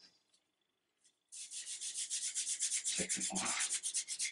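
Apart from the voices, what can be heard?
sanding a wooden gun stock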